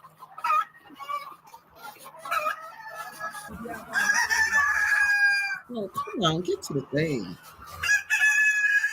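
Hens at a West African market cluck and crow loudly close by, with a rooster's drawn-out calls, while people talk among the birds.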